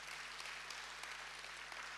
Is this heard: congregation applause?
yes